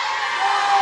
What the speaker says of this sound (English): The crowd advising Shark Boy not to do it